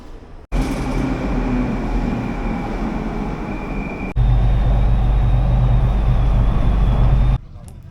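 Istanbul metro train ride, a steady loud rumble of wheels and motor inside the carriage with a high whine, stepping up to a heavier roar midway before easing off near the end.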